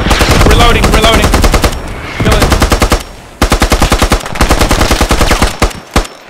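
MG3 machine gun fire in the video game Squad: loud, rapid bursts of automatic shots in several long strings separated by brief pauses, close and dominant.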